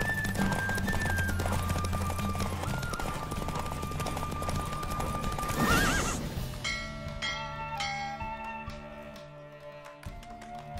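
Horses neigh and whinny during a horse race in Witcher 3, with clip-clop hooves and game music throughout, a loud burst near the middle before the sound thins out toward the end.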